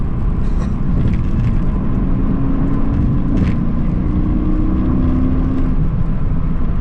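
A turbocharged Mercedes-AMG GT engine roars steadily at high revs from inside the cabin, a loud continuous drone with a rising whine layered over it.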